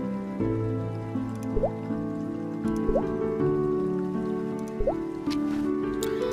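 Water drips in the horror adventure game Children of Silentown, several soft, rising plinks falling a second or two apart over a steady low musical drone.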